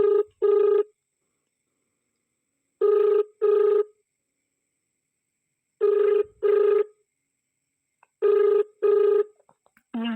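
A phone call to a delivery man rings unanswered: four pairs of double rings, evenly spaced, clear and alone with no talking.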